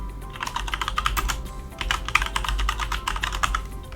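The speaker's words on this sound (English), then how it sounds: "I'm going to hit the down arrow key" Rapid typing on a computer keyboard with occasional arrow-key presses, a dense run of close, crisp clicks that pauses briefly midway and then resumes, with no talking over it.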